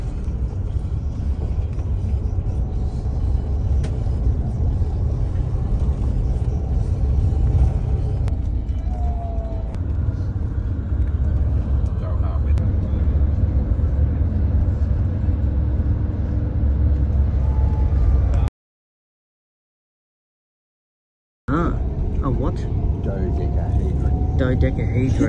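Low, steady engine rumble inside a bus travelling on the road from Botoşani to Bucharest, droning throughout with people talking over it and a short dropout near the end.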